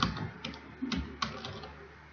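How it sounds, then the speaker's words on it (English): A username and password are typed on a computer keyboard, a short burst of quiet, close, irregular key clicks over about two seconds, with no talking. "I'm going to type the username and password."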